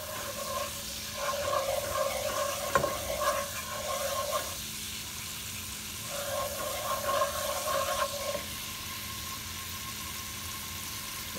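A lemon and cayenne pepper sauce with oil reduces in a pan for lemon butter salmon, giving a soft steady sizzle and bubbling with two bursts of stirring scrapes, fairly quiet and without talk.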